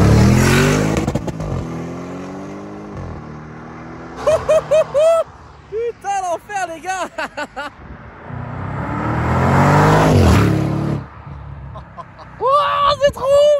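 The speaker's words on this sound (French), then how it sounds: "J'ai jamais entendu la voiture de dehors." A tuned Audi RS7 revs hard and roars past outside, with loud engine sweeps rising and falling over several seconds, and excited speech mixed in between the passes.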